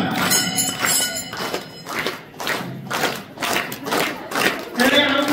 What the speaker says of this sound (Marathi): बघा सर्वांनी टाळ्या वाजवून